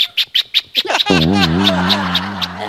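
A man imitates a doorbell with his voice during a Marathi comedy sketch at home: a run of short sharp chirpy syllables, then a long loud warbling tone that wavers up and down, close and unaccompanied.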